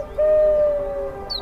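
A rock pigeon gives a single sustained, tonal coo, held for about a second, close and clear with little background noise.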